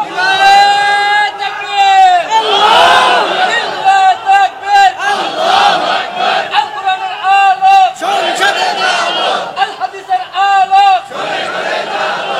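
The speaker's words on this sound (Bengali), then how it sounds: "একজন তাকবীর দেন তো আল্লাহর নামে" A large crowd at an Islamic religious gathering shouts the takbir in unison, loud, sustained chanted calls that rise and fall in repeated waves, with a voice leading between them.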